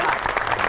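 Dense studio audience applause at a television talk show, a loud continuous wash of clapping that fills the whole short moment without a break.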